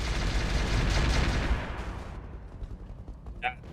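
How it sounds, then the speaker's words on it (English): Mortar fire in the Roguetech BattleTech mech game lands as a heavy rumbling barrage of blasts that roars for about a second and a half and then fades, leaving scattered faint thuds behind. "Here comes the mortar, though."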